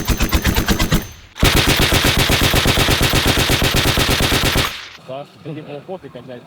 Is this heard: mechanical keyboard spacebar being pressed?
no